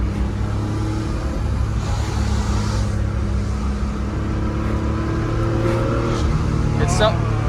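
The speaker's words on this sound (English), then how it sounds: "It's so cool to have like the engine sound behind you." A rear-mounted Porsche 911 engine at a car meet hums steadily from behind the cabin, a low, constant drone with slight swells as it revs, while people talk over it.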